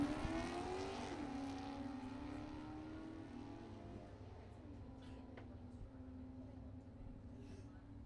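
A 1992 Mustang and a Camaro race in a Street Eliminator drag race, engines roaring with strong harmonic tones that fall in pitch and settle into a sustained drone, a voice faintly present beneath.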